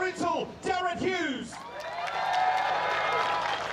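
A crowd at a GT4 motor race in Queensland whoops and cheers for a podium finish, a few loud yells up front giving way to a sustained wash of applause and cheering.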